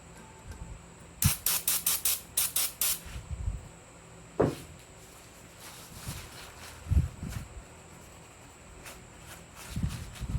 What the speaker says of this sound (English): I'm going to degrease it a little bit with this non-chlorinated brake parts cleaner.